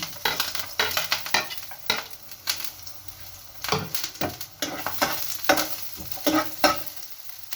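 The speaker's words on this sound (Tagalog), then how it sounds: "Lagyan natin yung garlic and onion." Garlic and onion sauté in a pan for pork ginisa, a close crackling sizzle broken by frequent scraping strokes of a spatula stirring against the pan.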